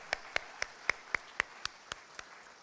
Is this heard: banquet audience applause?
yes